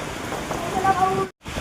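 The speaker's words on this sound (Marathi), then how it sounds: "खूप आलाय पाऊस." Heavy rain falls steadily close by during a stormy, windy downpour, a dense continuous hiss broken by a brief silent gap near the end, with faint tonal sounds in the background.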